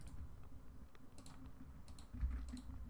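Rapid, light keystrokes on a computer keyboard as code is typed, close and fairly quiet, with uneven bursts and short pauses between clusters of clicks.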